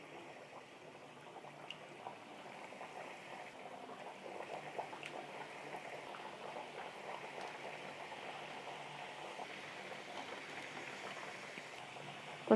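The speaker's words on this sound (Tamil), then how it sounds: "இப்போ நம்ம ஒவ்வொரு பிஸ்கட்டாக நம்ம எண்ணெயில் சேர்த்துக்கலாம்." Wheat atta biscuits fry in hot oil with a soft, steady sizzle and fine bubbling, faint and even throughout without talk.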